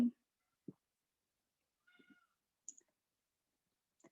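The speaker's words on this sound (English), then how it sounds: "I'm so sorry if you can hear the meowing in the background." Pet cat meowing faintly in a quiet room, a few short, soft, separate calls and small clicks spread over several seconds.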